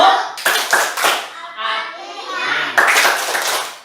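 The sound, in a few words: children doing the Al-Fatihah clapping chant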